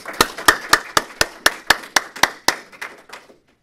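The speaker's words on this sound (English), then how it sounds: "Applause." About a dozen sharp, evenly spaced claps ring out at an investor pitch event, slowing and fading over three seconds as if only a few hands join in.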